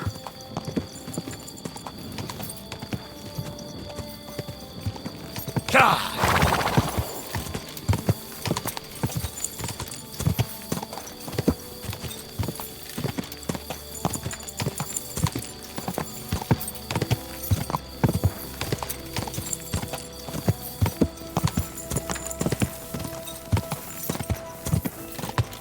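Horse hooves in the medieval video game Kingdom Come: Deliverance II, a long run of steady clip-clop on the ground with a brief whinny early on and occasional faint voices.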